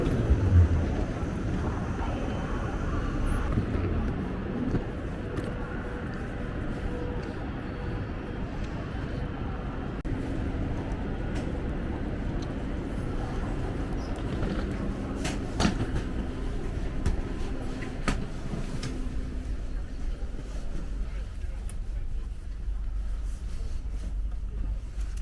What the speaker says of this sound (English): The train rolled again.